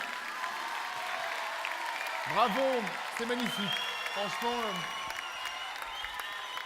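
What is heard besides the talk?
applause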